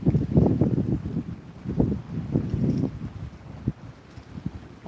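Wind blowing into the microphone outdoors on a walk near the shore, coming as irregular low buffeting thumps and rumbles in uneven bursts, fairly loud and close, with no talking.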